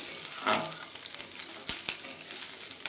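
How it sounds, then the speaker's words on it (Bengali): Spice masala with peanuts frying in a pan for khichuri, a soft steady sizzle broken by a few sharp scrapes and clicks of stirring, close and fairly quiet. "এতে একটু ভাজা ভাজা হবে। এখন এটাকে নাড়াচাড়া দিয়ে নেব।"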